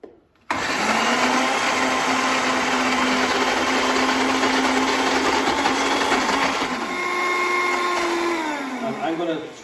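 A blender pureeing sweet potato runs loud and steady for about nine seconds after a short start, its whirring motor tone holding even and then dropping slightly near the end.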